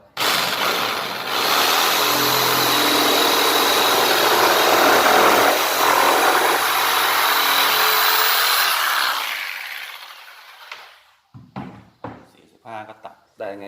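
A power saw rips steadily through a narrow strip of wood for about nine seconds, loud and continuous, then winds down into scattered knocks and handling noises of carpentry work.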